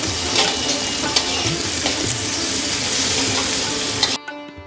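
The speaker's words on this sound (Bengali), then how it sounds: "পেঁয়াজের সাথে টমেটোটা ভালোভাবে কিছুক্ষণ ভেজে নেব" Chopped onion and tomato frying together in hot oil while being stirred, a loud continuous sizzle close up with scraping stirs, cutting off abruptly near the end.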